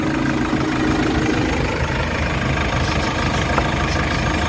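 A Hyundai H100 diesel engine idles steadily and loudly at close range, a continuous low rumble with no talking over it.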